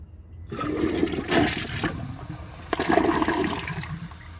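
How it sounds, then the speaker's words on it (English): A Glacier Bay high-efficiency toilet flushing nearby: a sudden loud rush of water that surges twice and then settles into a gurgling drain. "Due to the short flush this toilet has, I think the bowl clearance will be terrible."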